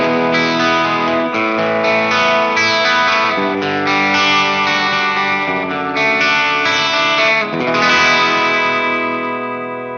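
A 1968 Gibson ES-335 electric guitar on its bridge pickup, volume around three, plays a clean-toned passage of ringing chords and notes, loud and close, continuous for about ten seconds with a slight swell near the end and no talking.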